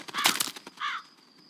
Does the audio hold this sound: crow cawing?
yes